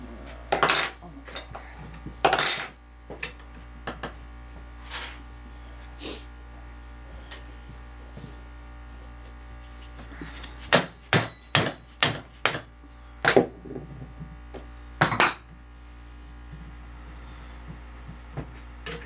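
Metal-on-metal hammer strikes on a 1986 Ford F150 power steering pump, with a few scattered blows followed by a quick run of sharp, ringing hits over a low steady hum.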